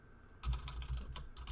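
Quick, close clicking of keys on a computer keyboard as commands are typed, a rapid run of light taps starting after a brief quiet moment.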